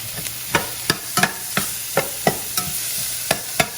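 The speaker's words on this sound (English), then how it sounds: "Saute everything" Onions, garlic and bouillon fry in hot fat, a loud continuous sizzle punctuated by regular sharp knocks and scrapes of a utensil stirring the pan, about two or three strokes per second.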